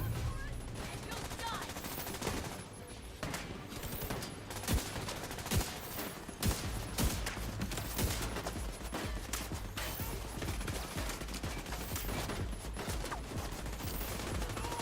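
Enemy turrets in The Division 2 fire sustained, dense bursts of gunfire throughout, loud and continuous over the game's backdrop.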